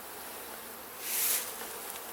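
Honey bees buzzing in an opened beehive during a split colony inspection, a steady close hum that swells briefly in the middle of the short stretch.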